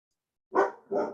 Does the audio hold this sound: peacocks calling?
no